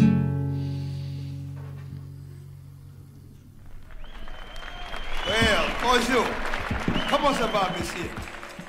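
Audience applause at an interview event for an author, swelling in after a stretch of quiet and building into a full burst of clapping, with voices and cheers mixed in.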